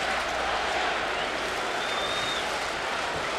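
A steady roar from a baseball crowd at Yankee Stadium cheering to rally the Yankees against the Toronto Blue Jays, sustained and fairly loud with no clear breaks.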